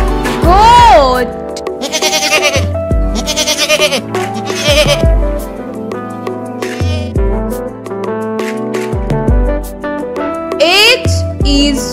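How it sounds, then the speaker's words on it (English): A goat bleating in several wavering cries over cheerful children's music, with a voice speaking in between. "goat."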